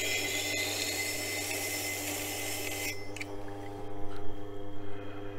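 A knife with a strongly curved tip is sharpened on a wet whetstone, a continuous gritty grinding rasp that gives way after a few seconds to quieter, intermittent scraping strokes.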